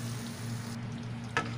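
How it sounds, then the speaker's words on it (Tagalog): Garlic shrimp and cauliflower in oyster sauce bubble and sizzle steadily in a pan, a constant close simmer over a low hum, with a brief clatter near the end. "Kumukulo na."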